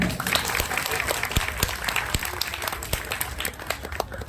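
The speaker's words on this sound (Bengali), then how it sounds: "তাহলে আরেকবার হাততালি হয়ে যাক" An audience applauds at a Sashti evening Agomoni stage program, with dense, continuous clapping from the crowd and some sharper individual claps standing out through the whole stretch.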